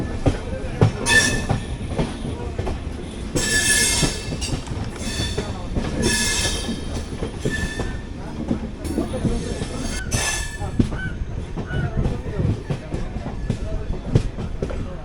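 Haripriya Express sleeper-class train moving through a station between Belagavi and Hubballi, with rhythmic wheel clatter and bursts of high metallic squealing from the wheels, fairly close, with occasional voices in the background.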